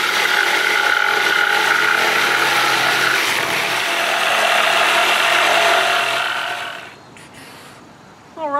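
A jigsaw cuts a wooden Halloween yard decoration with a loud, steady buzzing rasp that runs for about seven seconds, then stops abruptly, leaving a brief quiet.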